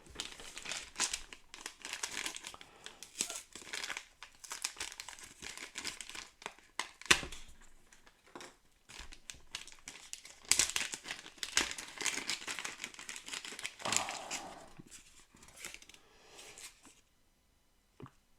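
Plastic packaging crinkles and crackles in bursts while board game dice for Cthulhu: Death May Die are unpacked, close and fairly quiet, with brief pauses between handlings.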